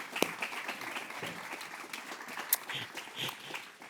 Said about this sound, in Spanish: Un aplauso para David Ramírez